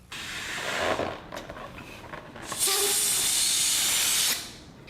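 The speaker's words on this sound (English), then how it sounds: "take another balloon, blow that one up, and let all the air out of that one too." Air rushing out of a rubber balloon in a long, loud hissing squeal that cuts off sharply, preceded by a softer earlier hiss and some faint rustling.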